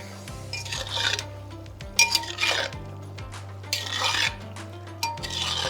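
A pot of food is stirred and scraped with a utensil, clinking metal-on-metal in irregular bursts, close and fairly loud over a steady low hum, with no talk.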